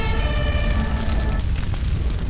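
A fire engine siren sounds as firefighters arrive at a forest fire in a school short film, a steady tonal wail over a loud, heavy rumble that fades into noise after a second or so.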